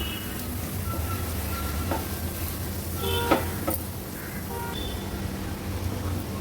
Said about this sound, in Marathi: हळद आणि मसाला तेलात छान परतून घ्यायचा आहे आपल्याला